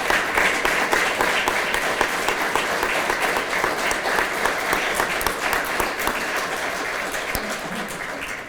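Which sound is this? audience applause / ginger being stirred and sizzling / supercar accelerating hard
audience applause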